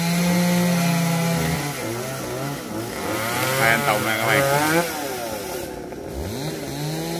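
Chainsaw cutting branches from a tamarind tree, a loud continuous engine whine that rises and falls as the blade bites, with someone talking over it.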